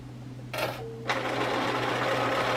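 A sewing machine starts up and stitches a zipper pocket seam, a brief whir, a short pause, then a steady close mechanical hum that runs to the end.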